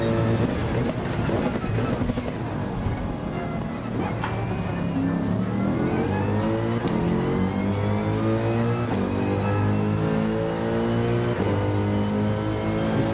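Mercedes-AMG race car in Gran Turismo 7, its engine droning steadily with rising and shifting harmonic tones as it accelerates through gears, loud and continuous throughout.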